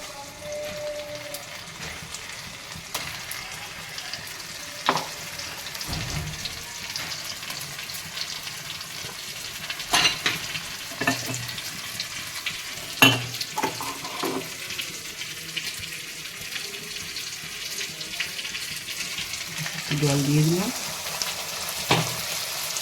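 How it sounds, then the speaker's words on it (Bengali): Ground spice paste sizzling in a pan with fried onions while cooking chicken, a steady hiss of frying broken by occasional spoon scrapes and clinks, fairly close and with no talking. "পেঁয়াজটা ভেজে নিয়েছি এর মধ্যে এবার আমি এই মশলাটা দিয়ে দেবো"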